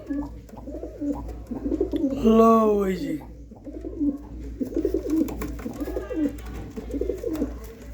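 Caged pigeons for sale coo in repeated low, throaty bursts close by, with someone speaking briefly over the birds amid a faint background hum.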